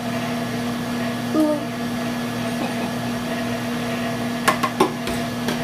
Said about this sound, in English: You gotta love the Vitamix. And let's see what happens.